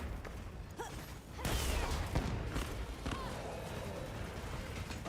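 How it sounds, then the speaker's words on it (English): Fireworks go off in the video game Monster Hunter Wilds, a quiet run of popping bursts and crackles with whooshes, several blasts spread irregularly over a busy game background. "Where does the fireworks come from?"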